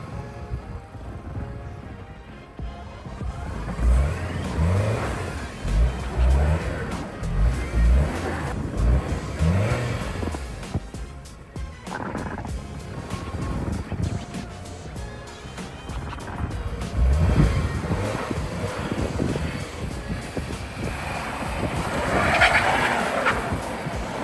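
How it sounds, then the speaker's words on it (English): Toyota Camry engine revving hard as it drives out through deep blizzard snow, with wheels spinning and tires squealing in loud, surging bursts that rise and fall over a steady rumble. "we're gonna try to run the Camry out of here"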